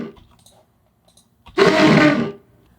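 A designed creature roar built from non-vocal layers, with a few faint clicks and then a loud, breathy, growling burst of about a second that cuts off sharply. No voices.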